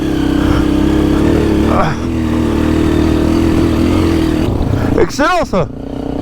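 An off-road motorcycle riding a steep rocky climb on the Trans Euro Trail, its engine droning loud and close with steady throttle, then revving up and down in quick surges near the end, while a rider exclaims.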